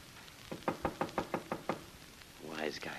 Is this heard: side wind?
no